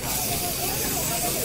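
Sizzling on a hot black obsidian-like stone set in salt, a steady broadband hiss that runs loud and unbroken for the whole moment, heard alone.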